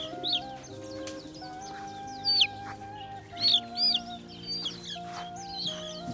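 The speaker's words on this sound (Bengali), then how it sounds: "দেশি মুরগি" Local village chickens cluck and chatter on a farm, several birds calling at once with short bursts of louder clucks and squawks over a steady hum, no talking.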